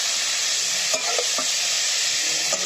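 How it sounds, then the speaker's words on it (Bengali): Boiled cauliflower frying in a pan gives a steady broad sizzle, with a few soft scrapes and knocks as it is stirred; no talk. "যার কারণে বেশ সময় ধরে নাড়াচাড়া করে দিচ্ছি"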